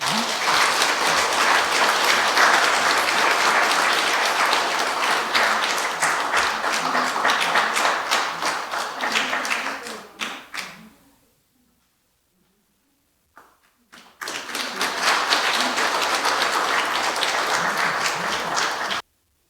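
A church congregation at a Sunday worship award ceremony breaks into loud, sustained applause, which stops abruptly, falls silent for a few seconds, then resumes just as strongly.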